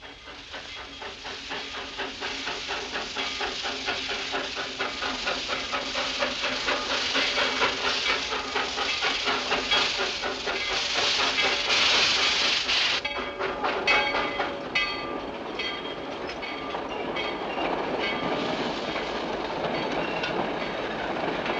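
A steam train stands at an old Western station, its loud continuous hiss and rumble giving way partway through to clanking, rattling rail cars and sharp metallic clatter.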